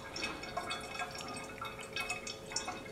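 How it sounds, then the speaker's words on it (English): Homemade Ribena wine runs through a siphon tube into a bottle during racking, making a faint, close, continuous trickle with small dripping and gurgling touches. "As you can see, the bottle's filling up."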